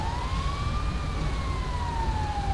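An ambulance siren in the police game LSPDFR wails in one slow rising and falling tone, fairly faint and distant over a low rumble of traffic.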